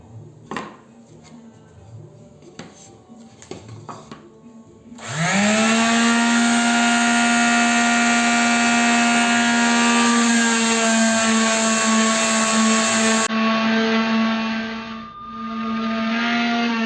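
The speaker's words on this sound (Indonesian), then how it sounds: "Sambil menunggu wood filler ini kering, saya mengamplas papan yang lain." Power sander on plywood boards, starting after some light handling knocks and then running as a loud steady whine with a constant hum for about ten seconds, briefly dipping and rising again near the end, no talk.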